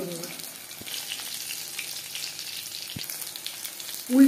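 Prawn and vegetable pakora frying in hot oil, a steady crisp sizzle that carries on throughout with a few soft stirring knocks and a louder clatter at the very end.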